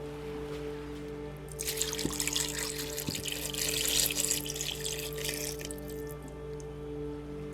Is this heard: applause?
no